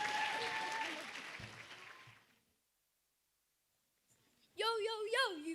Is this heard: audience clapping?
yes